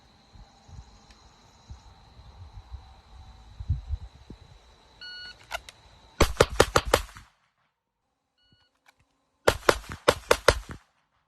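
Handgun shots are fired at a target from varying distances in two fast strings, each a tight burst of about five loud, sharp cracks, separated by a few seconds of quiet and a faint electronic beep.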